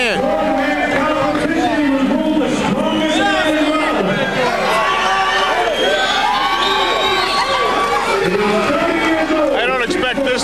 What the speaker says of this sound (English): Crowd is in it. They want Matt to win.